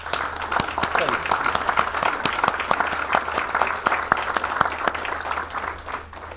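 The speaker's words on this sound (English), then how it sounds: "A round of applause." Audience at a village mayor's 2017 State of the Village address breaks into steady, sustained applause, dense clapping throughout at moderate loudness with faint murmuring underneath.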